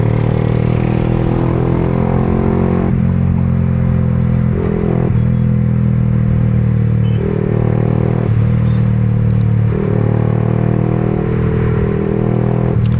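A 2025 Yamaha R15M motorcycle running at high speed, a loud continuous engine drone held high with brief dips and recoveries between gears, wind and road clatter mixed in.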